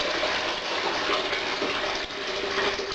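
Treated brewing water poured on a home brew day for a Pacific ale and gold draught, a steady, close, continuous splashing gush with no pauses and no voices.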